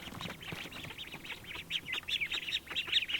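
A flock of panicked ducks squawks and quacks frantically in overlapping bursts, growing louder and more agitated toward the end, with no one speaking.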